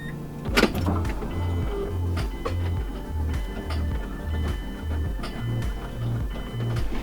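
DW300C in-tank fuel pump in a Mazdaspeed 3 running with the ignition on, a steady close electric hum with a regular pulsing, ticking rhythm and a brief louder clack near the start, with no talking.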